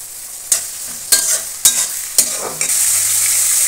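Chopped carrot stirred into dry chili paste with soy and tomato sauce frying in a pan for Korean noodles: a steady sizzle broken by four sharp scraping strokes of a spatula, close and clear, ending in a brighter continuous hiss.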